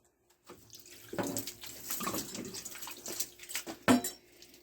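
Water trickling and splashing out of a water softener hose in uneven spurts, with a few drips and a sharper splash near the end, close by and fairly quiet.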